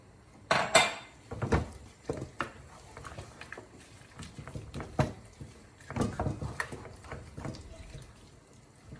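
A spoon stirs lamb and channa daal in a metal pot, scraping and clinking against the sides in an irregular run of close knocks, with wet shuffling of the thick mixture between strikes.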